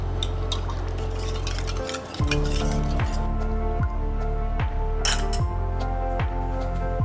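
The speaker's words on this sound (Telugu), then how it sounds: "లాస్ట్లో కొంచెం సాల్ట్, కొంచెం పసుపు వేసి మరొకసారి బాగా కలుపుకొని పక్కన పెట్టేసుకోండి" Buttermilk mixed with salt and turmeric in a bowl for majjiga rasam, steady sloshing and squishing liquid with a few metallic clinks of the spoon against the vessel, close and continuous.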